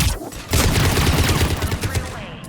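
Gunfire rattles in the video game Mass Effect 3, a loud, sustained volley of rapid shots beginning after a short lead-in and continuing to the end.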